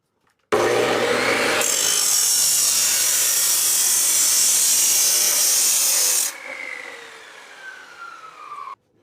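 A miter saw roars loudly through a piece of wood in one sustained cut, then the blade whines as it spins down after the cut.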